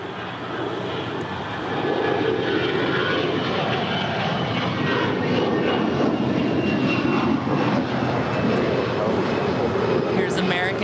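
An American Airlines Airbus A321 takes off from LAX for Dallas-Fort Worth, its engines swelling into a loud, sustained rumbling roar after a quieter start, with speech faintly under it.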